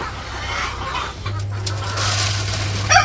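Chickens clucking in a village chicken house, close and clear, with a low steady hum beneath and a rustle near the end.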